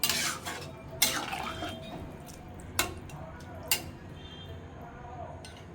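Vegetable curry being stirred in a pot after water is added, soft sloshing with a few sharp metal spoon knocks against the pot spaced across the clip, fairly close, no speech.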